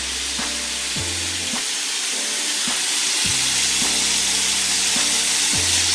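Seasoned chicken frying in hot oil in a pan, giving a steady, loud sizzle and hiss throughout, with faint low thumps underneath and no talk.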